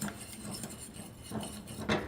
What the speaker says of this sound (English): So we're gonna stir it in there.